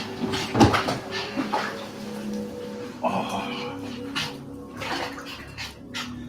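Water splashing in a bathtub during a dog's bath, with sloshing bursts and a few short whimpering or squeaky sounds from the dog, heard up close amid intermittent noise.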